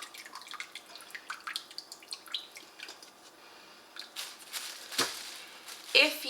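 Bone broth from an Instant Pot pours through a strainer, giving faint, close dripping and trickling, with a few louder splashes near the end.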